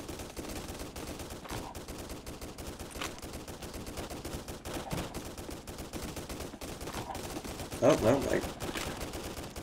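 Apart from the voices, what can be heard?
gunfire in the video game Roblox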